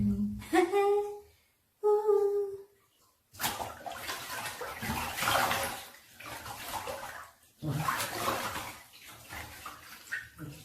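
Two brief vocal-like sounds come first, then hot water rushes into a bathtub in loud bursts, with the flow briefly pausing and resuming.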